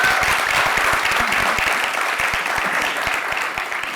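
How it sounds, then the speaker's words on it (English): A crowd at a music app's grand launch event gives a round of applause. The clapping is full and continuous, with sharp individual claps standing out and tapering slightly toward the end. "Let's have a round of applause"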